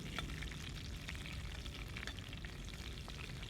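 Cumin, sesame seeds and green chilies sizzle steadily in hot oil in a pan, a quiet, continuous crackle with scattered pops and no voices.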